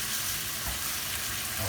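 Beef simmering in a broth with ginger, garlic and turmeric, a steady soft bubbling hiss that runs unbroken and close, with no voices over it.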